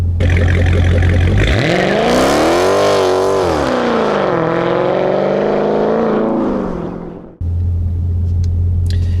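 A Dodge Scat Pack launches hard from a loud idle, its engine roaring up through rising revs, dipping at a shift, climbing again, then cutting off abruptly before the idle rumble returns, close and loud with no voices.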